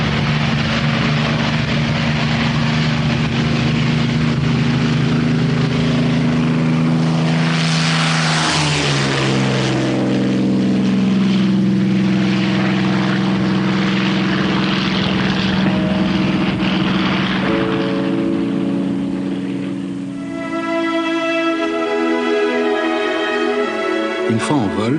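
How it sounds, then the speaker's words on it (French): Supermarine Spitfire piston engine roaring at full throttle on its takeoff run, loud and continuous, its propeller drone rising in pitch as the aircraft accelerates, with a voice speaking over part of it. "Allez, les gaz, et on décolle."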